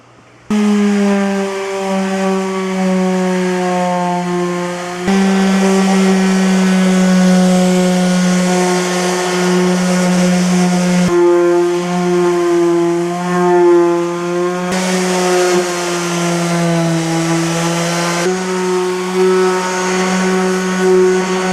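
A power sander grinds across a floor being prepared for epoxy paint, a loud steady droning whine with a few brief pauses and pitch shifts as it is pushed along, no talking over it.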